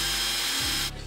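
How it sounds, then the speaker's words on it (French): A drill countersinks the entrances of screw holes in wood for a solar dryer build: a steady, loud whirring grind that runs continuously, then drops in pitch as the bit winds down near the end. "Et là, je fraise l'entrée des trous pour permettre à la vis de s'enfoncer un peu plus"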